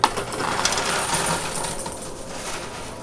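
Quarters clatter and jingle down inside a high limit coin pusher arcade machine, a dense burst of metallic tinkling that trails off over a few seconds, close and fairly loud.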